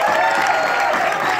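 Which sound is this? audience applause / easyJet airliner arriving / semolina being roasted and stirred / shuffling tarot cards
audience applause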